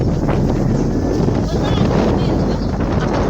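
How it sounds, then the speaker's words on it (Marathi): Strong wind blowing across an outdoor terrace: loud, continuous buffeting roar against the microphone with gusty swells and rumbling low-end throughout. "मस्त वारं सुटलेलं आहे"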